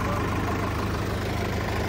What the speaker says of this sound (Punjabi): ਟਰੈਕਟਰ ਚੱਲਿਆ ਬਾਈ ਜੀ ਇਹ ਇੱਧਰ ਮਰੰਡੇ ਏਰੀਏ ਦੇ ਵਿੱਚ